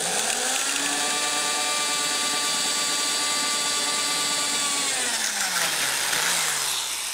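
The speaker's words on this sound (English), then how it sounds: "We're going to drill a hole partway through, but not completely through this board." A power drill bores partway into a wooden board, a loud steady whine held for about five seconds before the pitch drops as the motor winds down.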